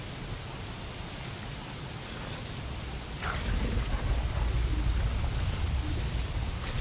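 Steady rainfall in the video game Don't Starve hisses as a broad wash of noise that grows louder and heavier partway through, with no talk over it.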